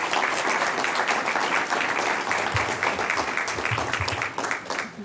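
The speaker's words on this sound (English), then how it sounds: "Let's please give her a round of applause." An audience at an evening keynote event gives sustained, dense applause that holds steady for several seconds before tapering slightly at the end.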